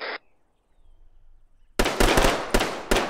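Gunfire in the video game Arma sounds as several sharp, loud reports in quick succession, with a short burst near the start and then a brief quiet stretch before the rapid cracks.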